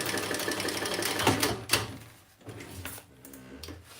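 A sewing machine stitches a crossbody bag in short bursts, with clicks and handling knocks between runs, close and fairly quiet.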